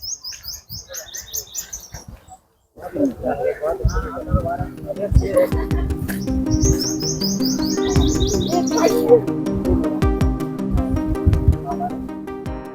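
Small birds give high, quick chirps in short bursts on Govardhan hill near Anjar in Kutch, heard at the start and again midway beneath a person talking and other nearby noise.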